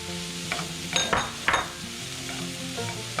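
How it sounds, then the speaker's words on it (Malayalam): Capsicum and tomato stir-frying in a pan for coconut shrimp thoran, a steady close sizzle broken by a few sharp scrapes and clacks of a spatula stirring the vegetables. "ക്യാപ്സിക്കം ഇടുക"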